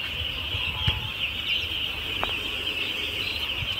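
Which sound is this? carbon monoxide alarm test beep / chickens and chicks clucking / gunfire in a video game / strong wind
chickens and chicks clucking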